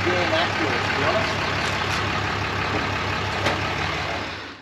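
A RAM 2500 truck rolls slowly onto a wheel weighing scale, its engine rumbling steadily and close with a low idling drone that holds throughout before easing off at the end.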